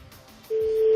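Telephone line tone on a live radio call to Universal Music: a faint hiss, then a steady, loud electronic ring tone that starts abruptly halfway through and holds to the end.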